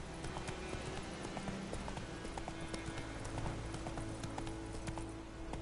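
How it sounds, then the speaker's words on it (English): A horse gallops in The Witcher 3, with fast steady clip-clop hoofbeats running throughout alongside game background sounds. "Whoa there, Roach"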